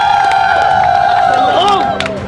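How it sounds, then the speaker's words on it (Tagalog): Crowd of contestants shouting and cheering on cue during a drinking game show, with loud overlapping voices and whoops, fairly close and brief. "isang sigawan muna dyan"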